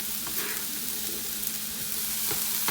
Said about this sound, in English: keep sauteing this for just a couple more minutes